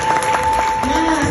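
An audience applauds a keynote speaker, a brief burst of dense, steady clapping from a crowd.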